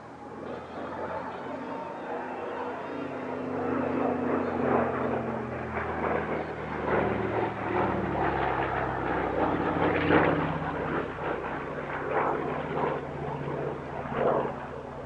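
Yak-3 propeller fighter flying at the East Kirkby airshow, a steady droning engine that swells and fades as it passes, with a voice talking over it.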